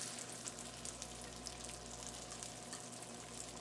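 Onion paste fries with a steady sizzle and continuous crackling hiss, close and even throughout, with no voices.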